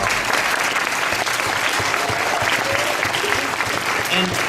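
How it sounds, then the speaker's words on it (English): A youth conference audience applauds loudly and steadily, a dense wash of clapping filling the hall from start to finish. "You can get applause for that."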